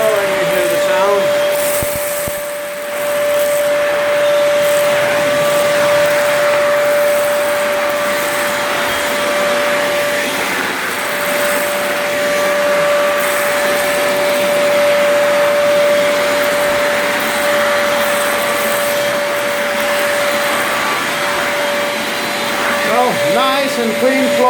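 A Parkside PNTS 1300 D3 wet and dry vacuum cleaner runs steadily and loudly for the whole stretch, with a sustained motor whine and rushing airflow and a brief dip near the start, while a person talks over it.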